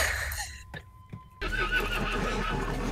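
A horse neighs in a video game, a whinny from the in-game horse, followed by a burst of louder game ambience and background noise; some talking is faintly present.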